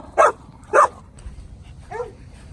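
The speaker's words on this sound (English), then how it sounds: "Look at all the dogs just running around. Oh, another dog wants to say hi." Dogs at a campground bark in two sharp, close yips followed by a softer whimper, with quiet outdoor background between the calls.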